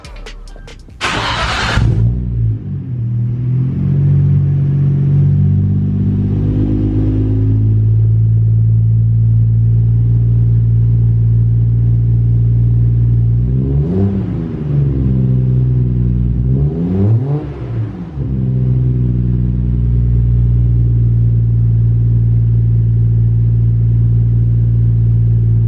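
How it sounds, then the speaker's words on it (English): A 1990 Nissan Skyline GT-R R32 fires up from cold, a short starter whir catching into a deep steady idle rumble, with two throttle blips swelling the exhaust note midway, recorded close. "this is a cold start on my 1990 Nissan Skyline GTR"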